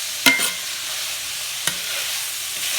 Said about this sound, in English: now we just added that bean paste and beef paste. Really frying up